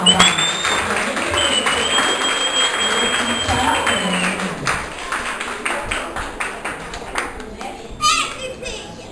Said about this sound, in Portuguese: Vamos bater palmas para eles.